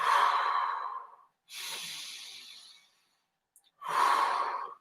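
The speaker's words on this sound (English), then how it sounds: "Deep breaths." Three deep, audible breaths taken close up during a children's exercise circuit: two long, loud exhales with a softer breath between them and a brief pause before the last one.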